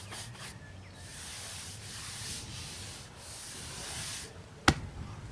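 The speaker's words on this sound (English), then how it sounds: "now I'm going to go ahead and sand the other three sides" Steady, close rubbing of sandpaper across a piece of homemade wooden furniture in long back-and-forth strokes, ending in a single sharp knock.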